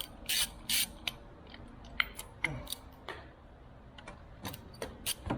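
A ratchet with a 22 mm socket clicks in short bursts while loosening bolts during a knock sensor job on a 2002 Chevy LS 5.3 engine, quiet and close, with scattered taps and clunks between.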